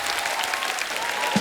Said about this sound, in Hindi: जोरदार तालियां एक बार ट्रेलर के लिए।